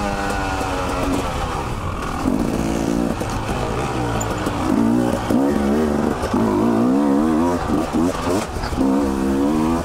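A dirt bike with Kreft Moto suspension rides a trail, its engine droning and rising and falling as it shifts between second and third gear, close and loud, with rushing wind throughout.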